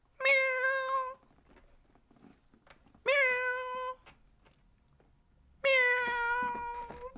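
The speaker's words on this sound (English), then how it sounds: "And Moji, I see you out there with a little meow." A cat gives three long, clear meows spaced a couple of seconds apart, fairly close and alone, with quiet room background between them.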